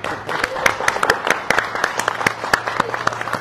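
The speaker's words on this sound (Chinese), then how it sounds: "现在我们就掌声欢迎" An audience at a press conference for a film's start of shooting breaks into applause, dense overlapping clapping with sharp individual claps standing out, sustained throughout with a voice faintly underneath.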